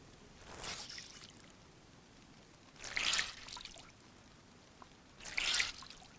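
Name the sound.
wringing out wet gloves in DayZ video game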